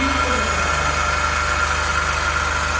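A DC shunt motor runs under field-resistance speed control, giving a loud, steady hum with a constant low drone and a faint whine. It sounds unchanging over the short stretch.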